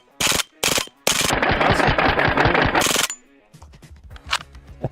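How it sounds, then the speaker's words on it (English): A full-auto gun fires a few single shots, then one sustained, rapid machine-gun-like burst that cuts off sharply. "this feels like a fucking machine gun"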